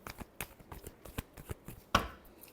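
Tarot cards are shuffled in a quick series of soft, crisp riffles and taps, ending in a sharper snap, all close and quiet with no voices.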